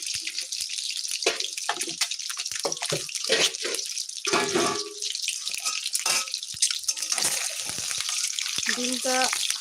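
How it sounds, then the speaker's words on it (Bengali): Eggs frying in a pan during home cooking of an egg and potato curry, giving a steady bright hiss throughout, with short bursts of a voice and small clatters breaking in. "প্রথমে ডিমগুলোকে আমি ভাজা করে নিচ্ছি"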